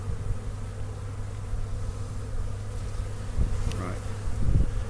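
A steady, close hum of many honeybees buzzing around a hive opened for inspection in February, continuous and droning with small swells in loudness.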